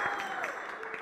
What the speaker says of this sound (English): Give your government a round of applause.